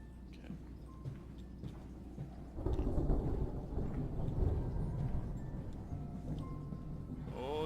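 Thunder rolls through a dark scene in the horror game Amnesia: A Machine for Pigs, a low rumble swelling loudly after a quieter start and sustaining with crackling texture to the end.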